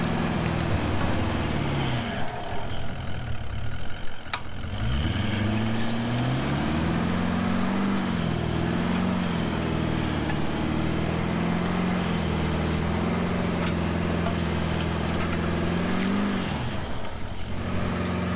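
A 4WD vehicle grinds slowly out of a soft riverbed under Crawl Control, its engine droning steadily and loudly as it rises and falls in pitch, with brake pulsing and a brief dip before it resumes.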